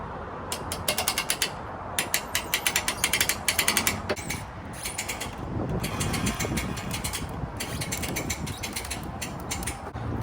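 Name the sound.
cranking a boat trailer winch forward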